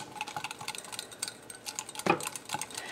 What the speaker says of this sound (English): I've got my trusty little whisk. I'm just going to whisk it in until it's completely incorporated.